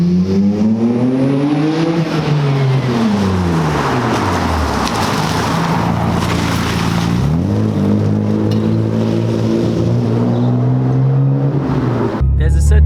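A Nissan Skyline GT-R R34 engine revs and pulls hard while driving, pitch climbing and falling through several throttle sweeps, loud and close with a person speaking over it.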